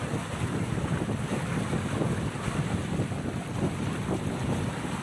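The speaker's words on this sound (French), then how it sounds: "j'ai du mal avec le vent à garder le bateau bien droit" Gusty wind buffets the microphone on a boat out on open water, a constant low rumble with rushing noise and faint wave sounds beneath.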